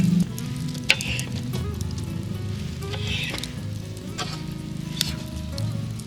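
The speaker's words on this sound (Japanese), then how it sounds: "そら豆はそのまま炒めます。" Fava beans and broccoli pieces stir-frying in a pan at a solo walking campsite, a soft continuous sizzle with scattered clicks and scrapes of stirring, close and fairly quiet.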